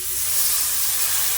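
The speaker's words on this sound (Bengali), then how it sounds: "এবার জল দিয়ে দেবো" Water poured into a hot pan of sautéed ash gourd leaves sets off a loud, steady steaming hiss and sizzle that holds for the whole moment, close and without voices.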